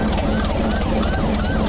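A police car siren in the Roblox video game wails in repeated rising and falling sweeps, loud and continuous under a dense wash of game noise.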